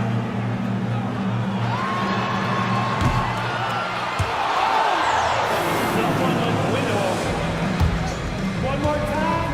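A basketball arena crowd during a minor-league playoff halftime as a fan attempts a half-court shot, with continuous babble and hubbub, scattered whoops and a rising swell of crowd noise mid-way, while voices talk through it.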